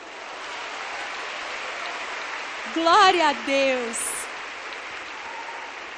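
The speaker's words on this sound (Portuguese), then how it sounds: "vamos aplaudir o Senhor" A congregation applauds at a testimony gathering, a steady wash of clapping heard throughout, with a voice briefly speaking over it midway.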